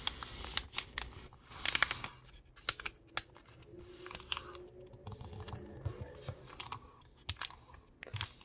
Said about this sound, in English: fold both sides to the center crease. So I just fold this side first.